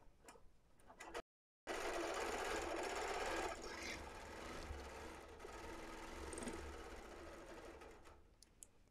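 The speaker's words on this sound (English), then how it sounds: "I'm just going to be quiet and get started quilting for a few minutes" Sewing machine free-motion quilting a zigzag quilt, a steady close mechanical hum with rapid needle ticking that cuts out for a moment, then resumes and runs continuously.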